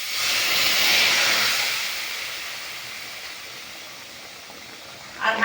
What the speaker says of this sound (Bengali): 1 বাটি জল দিয়ে দেব।